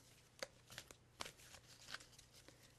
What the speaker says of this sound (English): And I'm going to shuffle right now.